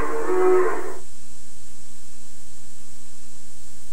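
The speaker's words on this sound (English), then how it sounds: "A cow says, moo." A cow's moo from a children's animated VHS program, one short bright call lasting about a second, then a faint steady hum and near silence.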